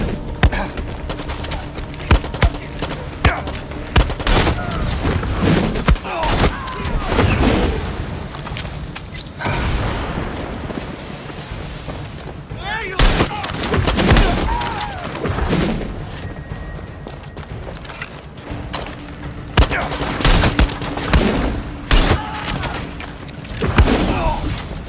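Gunfire in the video game Far Cry 6, Pagan Min Control DLC: repeated booming shots and bursts of fire spread through a dense, busy game mix, with talking over it.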